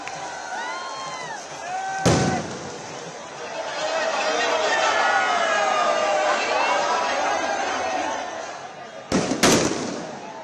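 Firecrackers go off in a street where thousands of cricket fans celebrate an Indian T20 win, with two sharp loud bangs standing out over a busy crowd roar, whistling and chatter.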